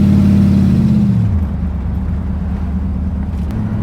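A 1934 Ford engine laboring in third gear while pulling away from a stop, a loud, close, low rumbling drone that sags in pitch early on and then holds steady.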